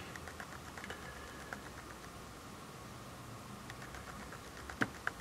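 Soft, quick taps on a phone keyboard while entering a search in the Play Store app, a faint patter of keystrokes close by with a couple of louder clicks near the end.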